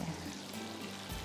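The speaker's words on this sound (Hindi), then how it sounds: "अब इसको फ्राई करती जाती हूँ" Garlic noodle ingredients fry in a pan with salt and garlic cloves, giving a steady, close sizzle that continues without a break, with no talking.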